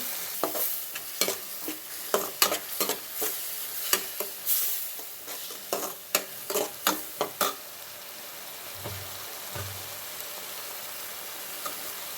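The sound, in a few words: sautéing and stirring masala in oil for quail gravy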